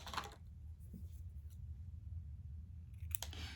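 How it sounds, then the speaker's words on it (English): Scissors snip the thread ends of a small gold and silver thread bow for a Valentine's cupcake liner decoration, giving a couple of short, sharp cuts near the start and end over a low steady room hum. "all I'm going to do is basically cut my little ends because they're a little bit too long."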